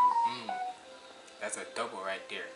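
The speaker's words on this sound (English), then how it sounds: "that was my phone" A mobile phone gives off a short run of electronic beeps and tones, heard over music with someone talking close by.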